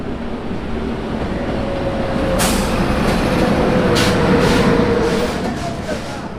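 The Hazarduari Express rumbles away from platform 1 at Ranaghat station, a steady, loud low drone of the moving train with a few brief hissing bursts on top.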